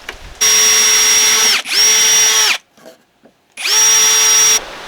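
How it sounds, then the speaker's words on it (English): A power drill whines loudly at a steady pitch in two long runs, stops briefly, then spins up again for a third long burst, pre-drilling a hole in timber. "I'm gonna pre-drill this hole so there's less chance of the timber splitting."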